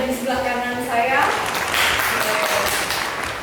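An audience claps on cue at an MC school event in Surabaya; a speaking voice is followed by a short, fairly loud burst of applause that keeps going to the end.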